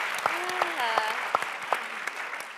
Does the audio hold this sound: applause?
yes